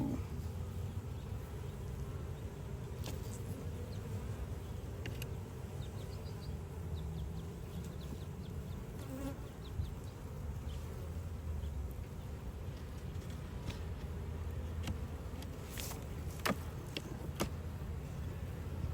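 Bees hum in a steady, close drone throughout a hive inspection, with occasional soft knocks and handling noises from the frames.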